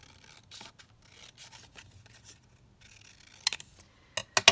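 Scissors snip through paper for a junk journal at close range, a series of quiet irregular cuts followed by several louder, crisp snips near the end.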